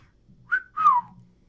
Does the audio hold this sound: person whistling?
yes